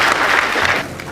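Brief burst of audience applause for jury members at a university talent contest quarterfinal, dense clapping that fades slightly toward the end.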